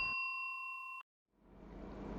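A notification bell sound effect rings one clear, bright ding that holds steady for almost a second, then cuts off into brief silence before a soft background hiss rises.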